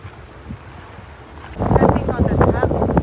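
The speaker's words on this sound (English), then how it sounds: "It's pretty windy." Wind blows on the open deck of the Carnival Radiance cruise ship off Catalina Island, starting as a low rumble before gusts buffet loudly against the microphone, with a voice talking faintly underneath.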